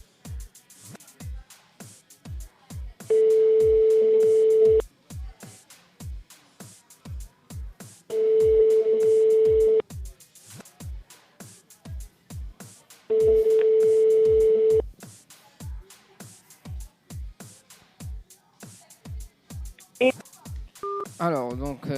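A telephone rings out during a live radio call-in prize draw broadcast from a diner, its steady tone sounding three times in long, evenly spaced bursts over a rhythmic background beat.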